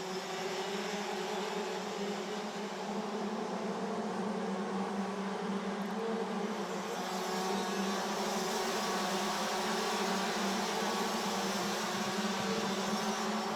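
Continuous droning engine whine of DD2 racing karts circling a track during a BNL Karting Series race, a steady high-pitched buzz heard from a distance with no clear breaks.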